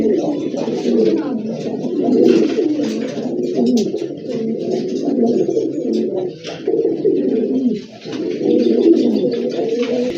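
Pigeons at a seller's shop coo steadily and loudly up close, with many overlapping throaty calls filling the whole stretch and a voice talking beneath them.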